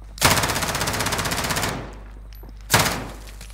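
Automatic gunfire in Call of Duty: Warzone, a long loud burst of rapid rattling shots lasting over a second, then a pause and a second short burst, with no talk.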